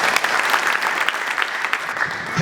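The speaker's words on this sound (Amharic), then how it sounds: "አጨብጭቡ።" A church congregation at a healing and prophecy service claps together, a steady, fairly loud patter of many hands with small rhythmic surges, no voices standing out.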